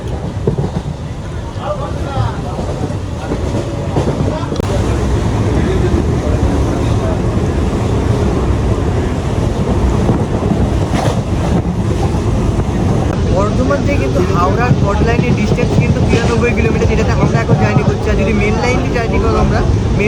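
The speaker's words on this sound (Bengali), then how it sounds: "দেখো ট্রেনের স্পিড কিন্তু একশো ছুঁয়ে ফেলেছে" A Bardhaman–Howrah chord line super local train runs at about 100 km/h, filling the carriage with loud, continuous rumbling and rattling, with faint voices in the background.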